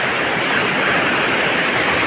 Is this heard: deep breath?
no